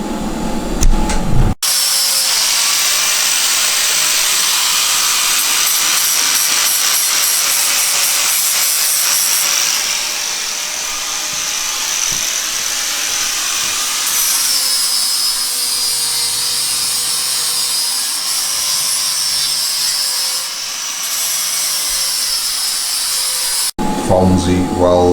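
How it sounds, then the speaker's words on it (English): TIG welding on the rear frame of a Honda CBR125R motorcycle produces a loud, continuous, close hiss with a bright buzzing edge that holds steady for over twenty seconds, bracketed by brief bursts of other noise. "TIG welding the back of the bike back together after we hacked it up."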